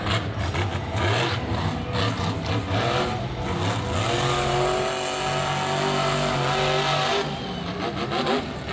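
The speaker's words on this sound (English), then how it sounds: "That truck sounds nice." A monster truck engine roars and revs hard at a Monster Jam event, a loud continuous growl rising and falling in pitch, with crowd noise faintly beneath.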